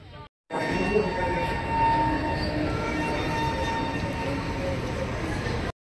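A Konark Express passenger train rumbles steadily between Vijayawada and Srikakulam with a continuous rolling roar and faint metallic whine, heard close as if from inside or beside the sleeper-class carriages.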